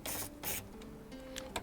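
Water hoses down a roach-infested PS5 console in short, close hissing bursts of spray with brief gaps between them.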